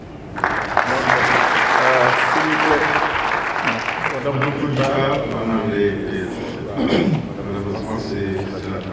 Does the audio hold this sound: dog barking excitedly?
no